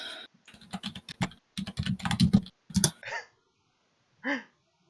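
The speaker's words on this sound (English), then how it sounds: "I got a new keyboard that's quieter, but still you can hear it." Rapid clicky typing on a quieter computer keyboard in quick irregular bursts, close and fairly soft, followed by a couple of short throat sounds.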